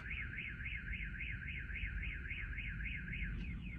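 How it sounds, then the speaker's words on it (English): A car alarm wails in a fast, steady up-and-down warble over a low background rumble, sounding somewhat distant. "Let me be back right after this alarm goes off."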